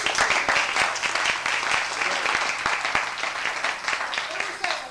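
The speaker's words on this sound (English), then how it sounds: "I think we all owe Joanna a round of applause for her work." At a Class of 1952 reunion, the audience claps together in brisk, close applause, with individual hand claps standing out. The clapping tapers slightly toward the end, and a few voices mix in underneath.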